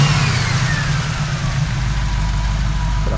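A 1969 Chevrolet Camaro V8 with an Edelbrock 4-barrel carburetor and aluminum radiator rumbles steadily and close, a loud low-pitched engine note holding even with slight rises, alone without voices.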